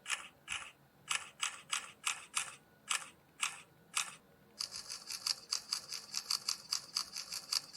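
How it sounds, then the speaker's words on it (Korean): A Samsung Galaxy Fold phone camera fires its shutter in burst mode: about a dozen crisp, separate clicks at an uneven pace, then a rapid continuous run of faster clicks, close and quiet. "카메라 셔터렉은 어떨까 해서 연사를 한번 찍어보면"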